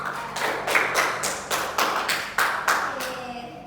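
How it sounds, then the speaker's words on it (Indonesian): A classroom group claps together in a quick rhythmic pattern, about a dozen loud, even claps in regular bursts, close and clear, with a brief murmur at the end. "Beri aplaus dulu untuk kita."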